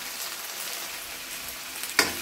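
Shrimp sauté in a hot pan with a steady, moderate hiss of frying throughout, ending in a brief sharper crackle or clink near the close, with no talking.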